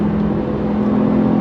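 Interior of a 2025 Porsche 911 Carrera T: a steady, loud engine drone with a strong low hum and a constant cabin rumble, holding an even pitch throughout, with no voices.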